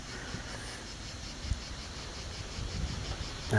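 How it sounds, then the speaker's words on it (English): A faint, steady drone of cicadas hums in the background throughout, with scattered small rustles and a soft bump near the end. "as soon as that temperature level dropped, the cicadas kicked off again."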